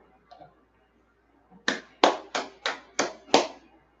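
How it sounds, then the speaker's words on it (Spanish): Six sharp, evenly spaced hand claps ring out close and loud after a quiet pause, a small group or single person applauding during a Kabbalah study lecture. "Un aplauso, un aplauso."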